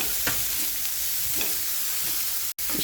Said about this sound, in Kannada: ಈಗ ಹೈ ಫ್ಲೇಮ್ದಲ್ಲಿಟ್ಟನೆ 1 ನಿಮಿಷ ಆಗಷ್ಟು ಬೇಯಿಸ್ಬಿಟ್ಟು ತೊಗೋತೇನೆ